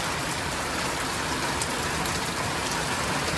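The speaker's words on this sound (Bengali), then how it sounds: "দেখেন ধুমায়া মুষলধারে বৃষ্টি হইতেছে" Heavy monsoon-style rain pounds a rooftop terrace in a dense, steady roar that fills the whole moment, loud and close, with no voices.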